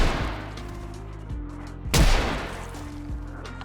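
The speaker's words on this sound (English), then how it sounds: "I used my gun to try and kill the horde that had now gathered" Gunfire in the zombie survival game Project Zomboid: one loud broadband crack near the two-second mark over a steady humming game soundtrack, with a few softer thumps around it.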